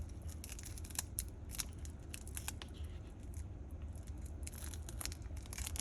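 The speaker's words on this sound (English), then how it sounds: "taking off this little plastic protector" A thin plastic protector is peeled off a new Studio Underdog Avocado watch, making quiet, close crinkling and crackling with scattered sharp ticks of tearing film, and no talking.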